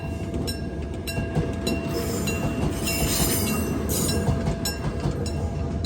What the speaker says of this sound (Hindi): वो देखो मेट्रो आ रही है